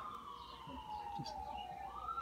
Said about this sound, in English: the ambulance just went by